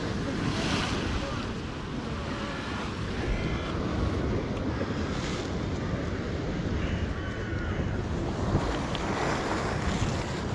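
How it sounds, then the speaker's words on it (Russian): Steady sea surf rolls against the shore with gusty wind buffeting the microphone throughout, a continuous loud wash of breaking waves and blowing air with no voices. "Вот такое море сегодня."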